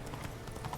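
Horse hooves clip-clop in a steady rhythm in a video game, a brisk series of close, moderately loud hoofbeats.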